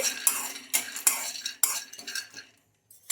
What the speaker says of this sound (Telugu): ఈ పల్లీలను కొంచెం లైట్గా ఫ్రై చేసుకోవాలి